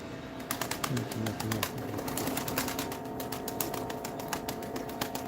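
Pigeons in a loft of nearly seventy birds coo softly amid a busy flutter of wings and sharp tapping clicks, a crowded flock close at hand.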